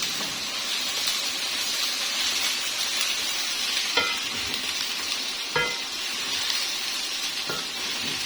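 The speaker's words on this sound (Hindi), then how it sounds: "इसको मैं अच्छे से फ्राई कर लूंगी" Garlic and ginger paste fries in a pan for chicken white karahi, a loud, even, continuous sizzle with a few faint clicks of stirring, heard up close with no voices.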